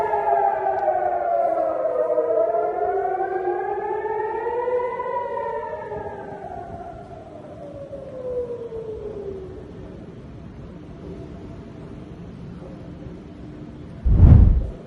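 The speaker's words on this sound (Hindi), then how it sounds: "इसके अलावा इजराइल के international airport Ben Gurion airport पर सायरन" Civil defense sirens wail at Ben Gurion airport in Israel, long rising and falling tones overlapping from a distance, fading out before a short loud bump at the end.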